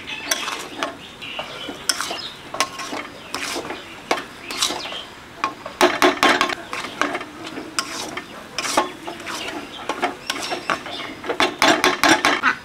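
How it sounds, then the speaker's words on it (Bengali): Meat being stir-fried hard in a pan for kosha, a busy run of rapid scraping and clattering of the spatula on metal, loud and close, with a faint sizzle underneath. "এবার বেশ ধরে কষবো।"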